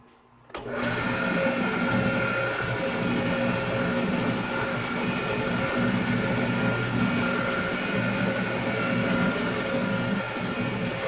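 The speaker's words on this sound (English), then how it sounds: "I've got a brad point 1/8 inch drill bit there." A drill whirs steadily at high speed, a constant motorized hum with faint grinding as a 1/8 inch brad point bit bores through Delrin, running without pause.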